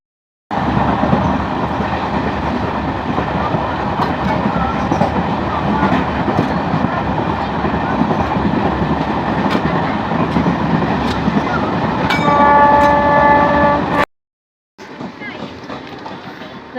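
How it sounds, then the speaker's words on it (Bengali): A train passing close by on a foggy morning, a loud sustained roar and clatter of wagons for about fourteen seconds, with a sharp horn blast near the end before it cuts off. "ট্রেন চলে যাচ্ছে"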